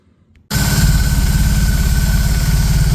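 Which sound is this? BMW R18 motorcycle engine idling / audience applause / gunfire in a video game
BMW R18 motorcycle engine idling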